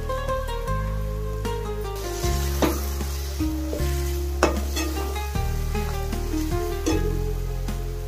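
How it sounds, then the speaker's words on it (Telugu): Prawns fry in a pan with a steady, strong sizzle as a utensil stirs and scrapes them, making repeated clicks and knocks against the metal over eight seconds. "రొయ్యల వేపుడు కాస్తంత అడుగు అంటేటట్టుగా చేసుకుంటే చాలా టేస్ట్ వస్తుంది."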